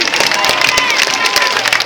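Dense audience applause for a singer at a live show in Canet-en-Roussillon, steady rapid clapping with crowd noise throughout, loud and close.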